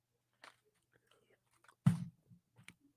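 Close, quiet chewing of crunchy sour Smog Balls candy with a chewy center: a few scattered soft crunches, one louder bite near the middle, then small munching sounds over near silence.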